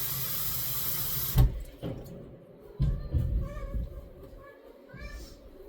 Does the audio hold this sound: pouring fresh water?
yes